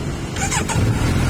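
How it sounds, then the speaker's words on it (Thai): A 2019 Kawasaki Z900SE with 19,900 km runs outside a roadside shop, its low engine rumble steady and close while passing traffic adds a faint whine in the background. "ฟังเสียงเครื่องยนต์นะครับ"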